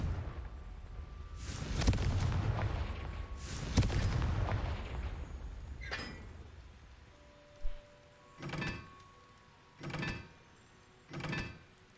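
Several Confringo fire spell blasts in the video game Hogwarts Legacy: two long roaring bursts early, then a sharp crack and three short separate bangs spaced about a second and a half apart, with no talk.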